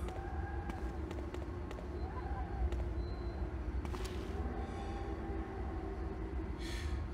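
Train in the video game Zettai Zetsumei Toshi 2, a continuous low rumbling drone of a running train with scattered metallic clanks and a hiss burst toward the end, moderately loud and steady.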